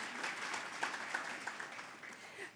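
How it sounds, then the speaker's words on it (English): Faint applause from the audience at an awards gala for science and technology honourees, a soft scattered clapping with a few sharper claps standing out, heard from a distance. "Yes, you can give them a round of applause."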